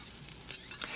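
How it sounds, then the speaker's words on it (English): Broccoli and mushrooms sizzle in a wok while being stir-fried for fried rice, a soft continuous hiss with faint scraping stirs, quiet and close. "I'm now ready to cook the broccoli and mushroom."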